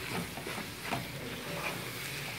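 Cumin and white pepper powder sizzle softly in a pan for a Kerala-style mutton curry and are stirred now and then, faint and close, with no talking.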